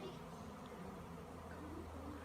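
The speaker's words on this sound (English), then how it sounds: "There are bees absolutely everywhere." A swarm of bees buzzes in a backyard as a continuous low drone, with faint bird calls mixed in.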